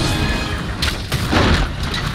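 Cluster bomb exploding in the Monster Hunter video game, heard as a dense, noisy rumble of overlapping booms and crackling bursts that swells in the middle, with no voice over it.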